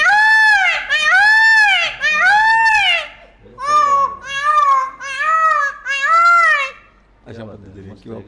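A human voice imitates a peacock's call with a string of loud, high, nasal wailing cries in two bursts, then trails off into a brief murmur.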